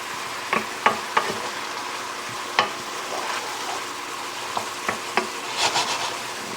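Pan-fried flat iron steak cooking on an electric stove, a steady moderate sizzle broken by occasional sharp clicks and scrapes of stirring.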